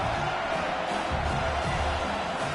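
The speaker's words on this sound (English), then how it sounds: "Crowd is loud" Loud stadium crowd roaring and cheering throughout a college football game between South Carolina and Clemson in NCAA 26, a dense steady wall of voices hoping for a fourth-down stop.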